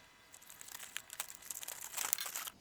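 Plastic and cardboard packaging of a Hot Wheels toy car crinkles and tears open, quiet close rustling that swells into a louder crumpling burst near the end, no voices.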